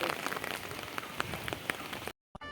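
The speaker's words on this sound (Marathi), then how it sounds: "पाऊस पडतो." Steady rain falls on a surface during a shopping outing, a dense continuous patter of drops that cuts off abruptly near the end, with a brief return of noise afterward.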